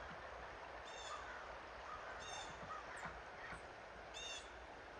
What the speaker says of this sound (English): We got the crows.